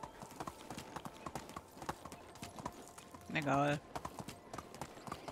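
Horse hooves clip-clop at a steady walking rhythm while riding in the video game Medieval Dynasty, a light repeating patter with a short spoken word from a player partway through.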